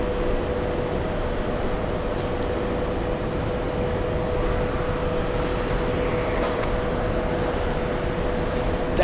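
British Airways jet climbing steeply after takeoff from JFK, a dense sustained engine roar with a steady whine running underneath the whole time.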